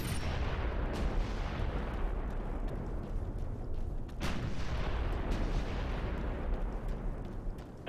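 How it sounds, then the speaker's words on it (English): Enemy machine gun fire rattles in Ghost Recon Future Soldier, a loud, dense barrage of shots and booms sustained the whole time, with a few sharper cracks standing out from the roar. "One hostile manning an MG."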